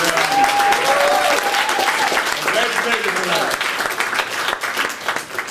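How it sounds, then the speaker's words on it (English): Loud, sustained applause from a political rally crowd cheering for Blair, with dense clapping throughout and voices calling and talking over it. "So everybody give Blair a great round of applause."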